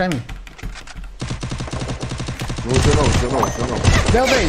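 Rapid bursts of gunfire crackle in a Garena Free Fire match, dense and loud, while players talk excitedly over the shooting.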